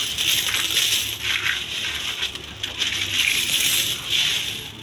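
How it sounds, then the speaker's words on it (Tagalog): Coins pour and clatter steadily out of a homemade savings bank filled with 5, 10 and 20 peso pieces, a dense, continuous metallic jingle that swells and eases in waves for several seconds with no talking. "Grabe yung mga barya mga boss."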